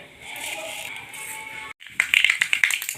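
Mustard seeds splutter in hot coconut oil, a quick cluster of sharp crackles and pops breaking out after a softer, hissy stretch, close and fairly bright.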